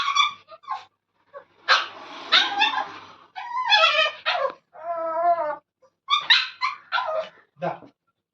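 Pet dogs whimper, yip and bark close by as they beg for biscuits, giving a mix of high whines and short barks in uneven bursts.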